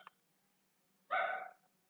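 A dog indoors lets out one short, sharp bark after a faint brief yip, fairly close and alone, with no talk.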